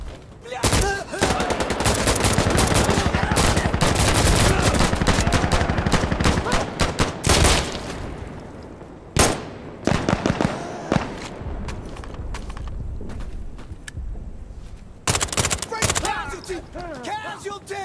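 Sustained loud gunfire in the tactical shooter Insurgency Sandstorm, long rattling automatic bursts followed by sharper scattered shots and short volleys, with footsteps in the gaps.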